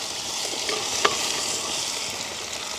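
Tomato sautés with onion, green chilli and garlic in a hot pan, making a steady, close, even sizzle that holds throughout. One faint clink cuts in partway and no one talks.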